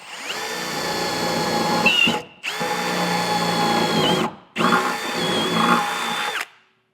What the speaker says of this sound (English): this one we're going to have to drill out with a 3/8 drill bit